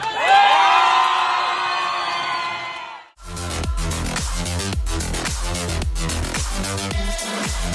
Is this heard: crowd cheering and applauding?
yes